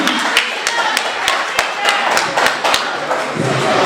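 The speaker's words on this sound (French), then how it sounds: "Applaudissez s'il vous plaît, applaudissez Rachid." An audience at a wrestling show claps for a performer, loose scattered claps with sharp thuds rising over a steady crowd din and background chatter.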